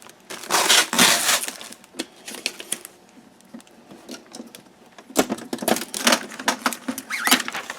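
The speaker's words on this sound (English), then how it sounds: "So just peel all these tape off." Packing tape is peeled in bursts off a new Brother ScanNCut 2 cutting machine during unboxing, with crackly ripping and crinkling close up, a quiet pause in the middle, then more tearing.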